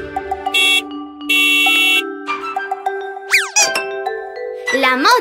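A cartoon taxi horn in a Spanish children's vehicle-learning song beeps in short bright honks and chime-like tones, mixed with playful melodic effects and a rising whistle, loud and close over a sung or spoken voice.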